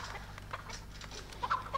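Clucks from a chicken in the video game Fortnite come through as short, soft, nearby bursts among light in-game background noise, with no talking.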